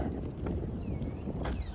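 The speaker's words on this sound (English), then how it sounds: "it's getting a little windy right now" Wind gusting outdoors on a hike through Warden Woods Park, buffeting the microphone with continuous low rumble and roar, close and fairly loud for a brief stretch.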